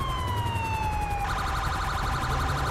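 A police siren from a new siren pack in LSPDFR, the GTA police mod, playing as a San Bernardino County Sheriff unit: a loud, steady wail that shifts abruptly into a fast pulsing yelp partway through, with no talk.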